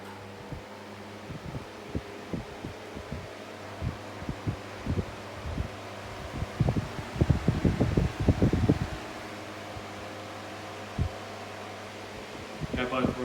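Two vintage 9-inch desk fans, an American Gilbert and an English Revo, run at full power with a steady low hum, broken by a series of soft rhythmic thumps and rattles that cluster and swell midway.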